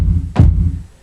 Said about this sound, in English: So this bass drum would normally sound like this